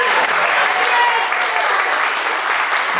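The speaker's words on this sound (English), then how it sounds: "please stand and give yourselves a round of applause" Wedding guests standing and applauding, a dense, loud wash of clapping from a large crowd that holds steady and even throughout.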